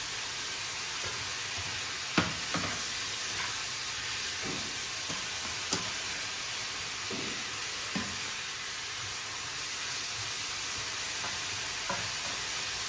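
Fried tofu is stirred into bean sprouts sizzling in a pan, a constant loud hiss of hot oil broken by intermittent scraping and a few knocks of the utensil.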